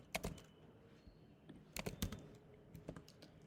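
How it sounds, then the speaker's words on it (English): Close, quiet tapping of keys on a computer keyboard, with short irregular bursts of keystrokes and small pauses between them. "we need to just type here AI Studio."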